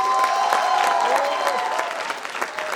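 A theatre audience at the NCZCC drama performance applauds the playwright, loud, dense clapping from a large crowd, with a bit of cheering and voices mixed in, tapering slightly toward the end.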